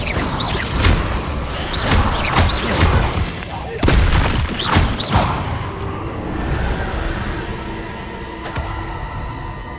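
Repeated booming blasts of the Confringo explosion spell in the game Hogwarts Legacy, loud thuds with whooshing tails in quick succession, then a fading rumble, with a voice calling out over the bursts.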